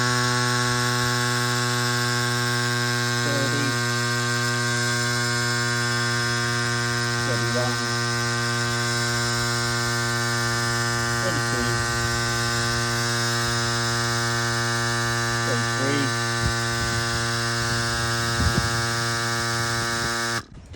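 A CYCPLUS AS2 Pro Max electric tire inflator pumps up a motorcycle tire with a steady, loud, close buzzing drone and hum that runs unbroken for about twenty seconds before cutting off.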